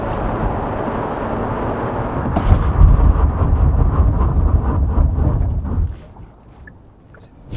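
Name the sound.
Genesis G80 2.2-liter diesel car braking hard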